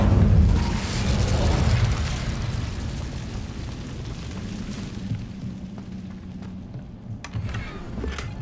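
Incendio fire spell cast in Hogwarts Legacy: a loud whooshing burst and deep boom that fades into a crackling, rumbling tail, then quieter scattered pops.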